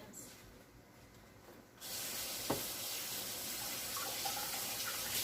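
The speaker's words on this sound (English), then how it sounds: "I'll wash my hands." Hands are washed under a kitchen tap, with running water starting abruptly partway through and then hissing and splashing steadily and close by.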